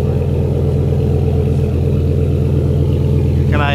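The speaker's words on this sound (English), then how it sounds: "Give a little gas, give a little bit of gas, man." Pickup truck fitted with a Dodge Viper engine and straight-pipe exhaust, idling with a deep, steady rumble close by, loud and unbroken, with a brief rising whine near the end.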